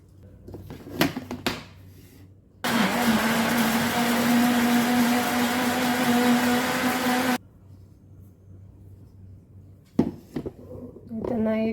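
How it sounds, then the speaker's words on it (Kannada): A kitchen juicer grinds pomegranate with a little water, its motor whining loud and steady for about five seconds before stopping abruptly, with brief handling clatter before and after. "ಇದು ಜ್ಯೂಸರ್ ಉಂಟಲ್ಲ"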